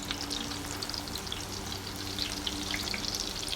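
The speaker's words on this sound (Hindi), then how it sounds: "ये हमने डाल दिया है, इसको हम फ्राई कर रहे हैं" Puri dough frying in hot oil in a frying pan, giving a steady, even sizzle with fine crackling pops, close and moderately quiet, with no voices over it.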